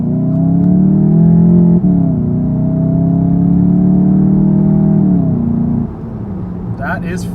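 A 2019 Volkswagen Jetta GLI pulls away from a stop, its engine note climbing steadily for about five seconds before easing into a lower hum, a loud sustained drone from inside the cabin with a brief voice near the end.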